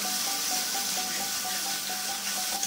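Chili powder and turmeric, mixed with water into a paste, fry steadily in a pan for a potato, pointed gourd and paneer curry, giving a continuous soft sizzle with no voices over it.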